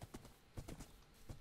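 Horse hooves in the Minecraft video game clip-clop in an even, quick rhythm of soft, close knocks, heard alone over faint background hum.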